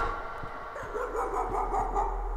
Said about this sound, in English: It's a little dog.